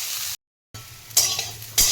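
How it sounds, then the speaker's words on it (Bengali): Sliced bitter gourd sizzles in hot oil in a frying pan, a close crackling hiss broken by a short silent cut, with louder bursts of stirring scrapes near the end. "আমার উচ্ছে ভাজা হয়ে গেছে।"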